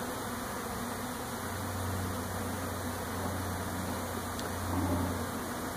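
A honeybee swarm arrives at a swarm trap outside in Dallas, giving off a steady, dense buzzing drone that holds level throughout and swells slightly near the end, with no voices.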